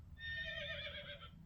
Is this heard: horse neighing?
yes